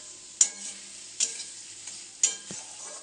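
Chicken fries in a little oil with a continuous hiss, and three sharp clanks of a spoon stirring it against the pot come at regular intervals, close by with no voices.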